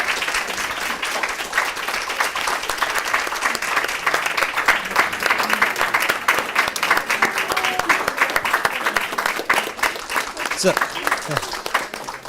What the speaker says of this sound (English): we could just get a round of applause for these great teachers in our system right now.